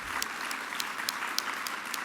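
Audience applause at an award ceremony, the 2023 GABBY Awards: a steady, moderately distant wash of many hands clapping with a few sharper individual claps, and no voices.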